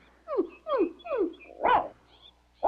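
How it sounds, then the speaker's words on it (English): A cartoon dog barks in an animated kids' adventure, giving three quick yelping barks in a steady rhythm, then a louder, fuller bark, with another starting at the end; close and clear, with no talk over it. "And your nice dog, Paddlefoot"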